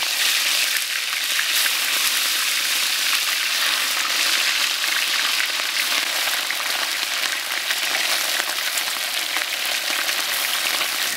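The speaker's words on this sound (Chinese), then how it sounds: "油温烧热，我们下入鱼煎啊。" Grass carp pieces frying in hot oil in a wok give a steady, dense sizzle that crackles continuously and evenly from start to finish, close and fairly loud, with no voices.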